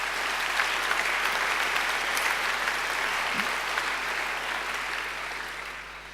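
Audience at a university graduation ceremony gives a full, continuous round of applause, a thick wash of clapping that stays even and then eases slightly toward the end.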